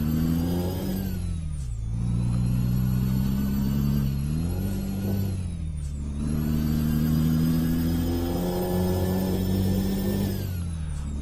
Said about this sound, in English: My truck does not sound healthy.